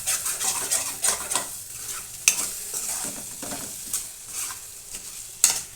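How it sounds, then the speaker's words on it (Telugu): Eggplant frying in a pan and being stirred, a utensil scraping and clinking against the pan over a soft continuous sizzle, close and fairly loud, with no voices. "చూడండి మధ్య మధ్యలో కొంచెం కలుపుకోవాలండి, మాడిపోతుంది, అడుగంటుతుంది,"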